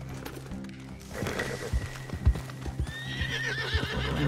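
Horse in the Red Dead Online video game galloping with steady, loud clip-clop hoofbeats, then letting out a high, drawn-out neigh near the end, heard alone without talk.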